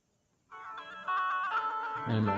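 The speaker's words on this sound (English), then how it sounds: "and my phone is ringing." A mobile phone ringtone plays a tonal melody that starts after a short silence and grows louder, with a voice or noise building toward the end.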